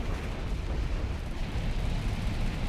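Nuke cannon blasts in the real-time strategy game Generals Evolution rumble as dense, continuous explosions with a heavy low roar and no clear gaps.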